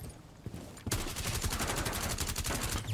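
Rapid automatic gunfire in Rainbow Six Siege, fired while testing recoil on a sledge loadout: a steady, loud burst of closely spaced shots that starts abruptly after a brief quiet lead-in and runs continuously to the end.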